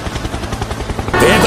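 Helicopter rotor thudding in a fast, steady rhythm of low beats, then a sudden louder, harsher wash of noise near the end of the short burst.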